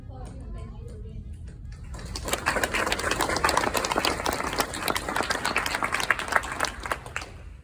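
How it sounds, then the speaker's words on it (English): Applause from a civic gathering for a Citizens Academy graduating class in Richardson, Texas, starting after a moment of voices and swelling into steady, dense clapping from many people that continues to the end. "So I really want to applaud you and thank you for being here"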